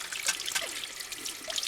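Tap water runs steadily into a sink while fruit is washed for jam-making, a faint, even trickle with small splashy flickers throughout.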